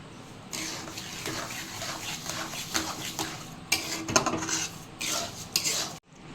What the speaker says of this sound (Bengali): এইবার চালটা ফুটে ঠিক এরকম ঘন হয়ে এসছে, আর এখন 200 গ্রাম চিনি এতে মিশিয়ে দিচ্ছি